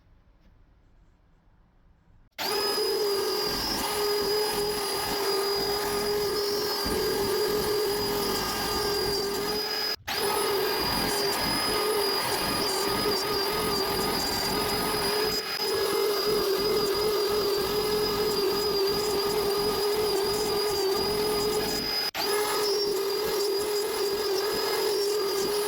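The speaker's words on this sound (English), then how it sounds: "we'll just continue with that end milling bit and route out the surrounding area" A router fitted with an end milling bit cuts away recycled pine around a plaque design, a steady high-pitched whine with a grinding edge that starts abruptly after a short quiet moment and runs continuously, close and loud.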